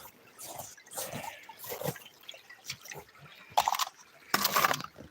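Water sloshes and splashes in a gold pan while prospecting in Alaska, arriving in several separate bursts with quiet gaps between them, close to the mic and with no speech.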